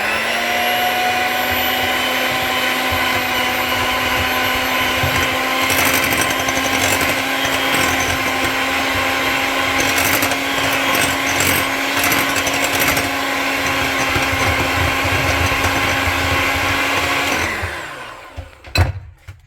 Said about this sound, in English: I don't have a blender, so they said I can also use a power mixer.